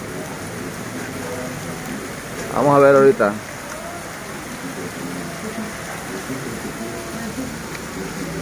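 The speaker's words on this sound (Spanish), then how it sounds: "Ahorita apenas acaba de empezar la lluvia" Light rain falls steadily in a street in Acapulco during Hurricane Nora, a soft continuous patter, with someone speaking briefly over it near the middle.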